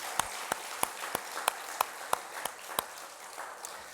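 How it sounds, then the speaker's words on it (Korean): Church congregation at a Sunday morning service clapping to congratulate two couples: fairly faint applause with a string of distinct, evenly spaced louder claps standing out, heard from a distance. "우리 두 분 축하의 박수 한번 하도록 하겠습니다"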